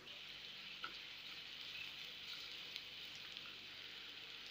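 Onions fry with garlic and ginger paste in a pan, a soft, continuous sizzle with occasional faint pops, steady and close.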